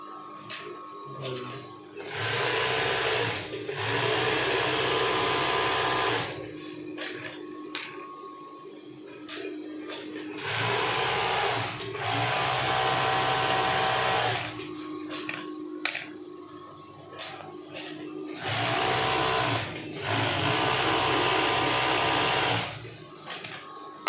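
Tailor's sewing machine stitching in bursts, a loud close mechanical whir running for several seconds at a time, separated by short pauses with clicks and handling sounds.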